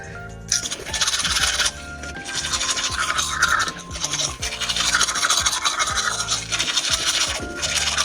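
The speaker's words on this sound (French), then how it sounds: "On va se brosser les dents." Someone brushes their teeth with a toothbrush, giving close, continuous bristly scrubbing and rubbing strokes in an uneven rhythm with brief pauses.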